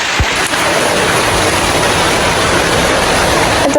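Heavy rain pouring steadily during a dark, stormy spell, a dense continuous broadband hiss at constant loudness with occasional low thumps, with no talking.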